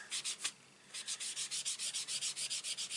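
An ink dauber rubs rapidly back and forth over an embossed wood grain card, a close, regular scuffing rhythm after a brief pause, with no talk.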